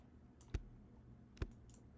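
A computer mouse gives two separate, sharp clicks about a second apart during terrain editing in Unity. The clicks are quiet and close against a faint steady hum.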